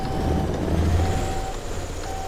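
A truck with manual gears in Alaskan Road Truckers reverses with a steady, evenly spaced beep over its loud low engine rumble.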